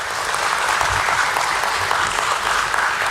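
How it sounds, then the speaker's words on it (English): A crowd at a stock exchange listing ceremony for a highway infrastructure trust applauds continuously, a dense, even wash of clapping throughout. "May I request a round of applause for Maple Highways,"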